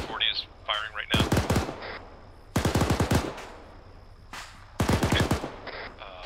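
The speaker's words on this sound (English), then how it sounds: "can you see between those buildings where that 240 is firing right now?" An M240 machine gun fires in three loud, sharp bursts of rapid shots, each a few rounds long with gaps between, while voices talk nearby.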